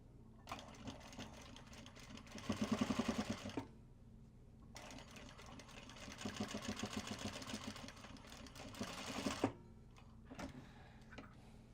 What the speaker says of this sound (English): And then top stitch again from that dot